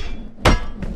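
A hammer in the VR combat game Battle Talent lands one loud, sharp impact, followed a moment later by a weaker second thud over steady game background noise.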